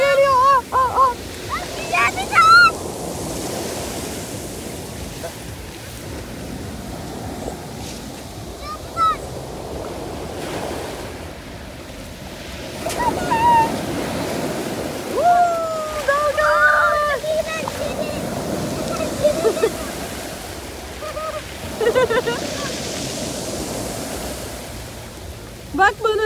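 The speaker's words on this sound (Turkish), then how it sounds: "Ana kocaman bir dalga geliyor." Sea waves break and wash onto a beach in repeated surging swells with wind noise, while someone talks and a child calls out over the surf.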